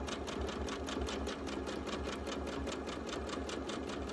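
A sewing machine stitches a baby quilt at a gentle, even pace. Its needle taps out a fast, regular rhythm over a steady motor whir, close and alone, throughout.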